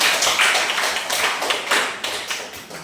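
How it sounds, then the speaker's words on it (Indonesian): Students in a classroom give a short round of hand clapping, crisp close claps falling into a loose rhythmic pattern for about three seconds. "tepuk tangan untuk kalian"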